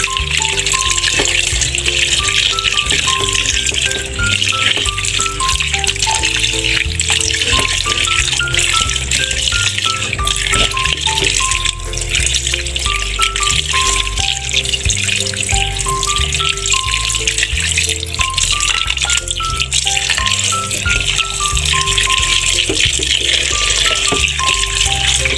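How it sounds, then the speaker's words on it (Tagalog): Squid being rinsed in a strainer under a steadily running kitchen tap, a constant loud gush of water throughout, with faint background music and no talk. "Then hugasan natin ng mabuti para talagang maalis ang kanyang lansa."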